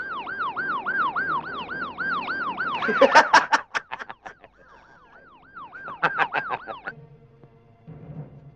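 A wailing siren sweeps up and down repeatedly, cut by sharp clattering noises and a brief pause, then resumes before fading out.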